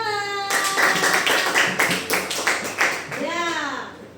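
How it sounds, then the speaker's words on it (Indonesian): A classroom of children claps in a quick burst of about a dozen sharp, rhythmic hand claps, with a voice audible near the end. "tepuk tangan."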